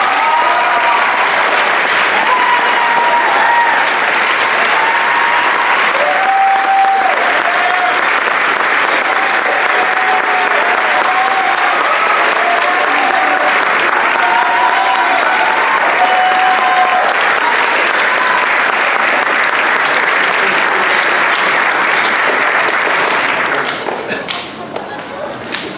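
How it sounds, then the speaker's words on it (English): Sustained applause from an audience at a school athletic awards ceremony, a dense steady wash of clapping lasting over twenty seconds before tapering off, with a few voices mixed in. "if we can get a round of applause for Kira"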